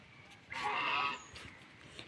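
A duck gives a single loud, nasal honking call lasting about half a second, close by outdoors, with faint background noise before and after.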